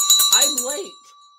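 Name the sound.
stock market closing bell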